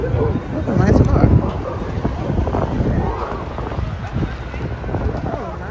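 Cold winter wind at 19 degrees blows outdoors near a train, buffeting the microphone with a loud low rumble that swells and fades while a person talks over it.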